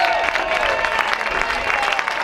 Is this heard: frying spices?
no